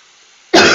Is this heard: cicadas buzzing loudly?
no